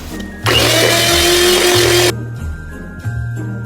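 An electric hand mixer whirs loudly for about a second and a half while beating rum fruit cake batter in a bowl, then cuts off, leaving a quiet kitchen with a soft background hum.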